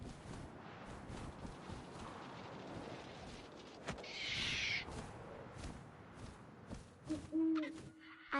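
An owl hoots within the video game What Remains of Edith Finch, a faint call set against wind and rustling ambience, with a brief louder thump near the end.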